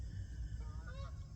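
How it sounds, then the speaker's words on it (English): Two geese honk faintly in the distance, a few short nasal calls near the end over a low rumbling background, no talking. "the geese are starting"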